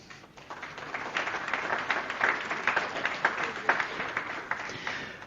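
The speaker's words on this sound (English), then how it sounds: "And a round of applause, please." Audience applause at the 2023 Dubrovnik Forum, a steady wash of many hands clapping in a conference hall, building after a quiet start and holding at moderate loudness throughout.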